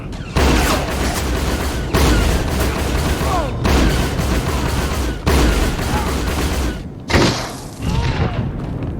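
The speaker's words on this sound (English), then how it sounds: "I love this mortar strike thing," Repeated mortar strike explosions in Star Wars The Old Republic, several loud booming bursts in a row with short gaps between them, heavy, continuous and close, with no talk over them.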